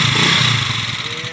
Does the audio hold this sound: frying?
no